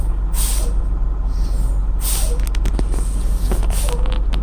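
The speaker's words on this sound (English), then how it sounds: "I'm going to pump on the service brake gently till reach 90 psi." Truck air brake system while the service brake pedal is pumped gently toward 90 psi: loud, close bursts of compressed-air hiss recur at intervals over a steady low engine rumble, with no voices.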